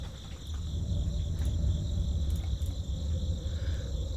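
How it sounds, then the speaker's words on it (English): Crickets chirr steadily at a high pitch over a low, constant rumble in the video game Darkside Detective 2, with no talking. "There's a chirping sound from over there."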